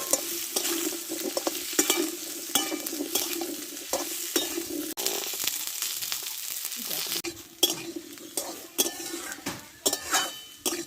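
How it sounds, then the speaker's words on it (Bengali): Watermelon rind and potato stir-fried in an oiled pan, a steady close sizzle with repeated scraping and clinking strokes of a spatula against the metal, no voices. "এইবার তরমুজের খোসাটা আমি দিয়ে দেবো ভালো করে কষে দেবো"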